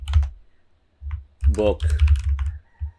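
Typing on a computer keyboard while adding an ebook product in a Shopify store: soft clustered key clicks in short bursts, close and moderate, interleaved with a person speaking.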